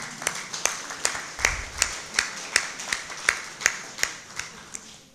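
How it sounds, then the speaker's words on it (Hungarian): An audience claps at an Elderly Day celebration, slow rhythmic unison claps, about a dozen evenly spaced beats, fairly close with no talk. "tapsoljuk meg!"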